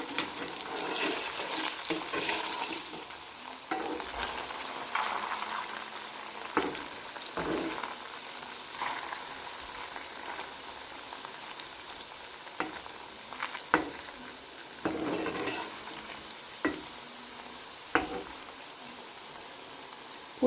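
Flattened-rice pitha fry in oil with a continuous bubbling sizzle, broken by scattered clacks and scrapes of a utensil turning and lifting the pieces. Some stretches sound watery and uneven.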